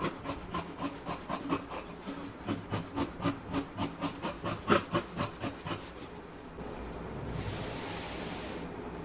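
Fabric being cut for a kurti: a quick run of about a dozen evenly spaced, crisp snips up close, then a softer stretch of rustling with no voices.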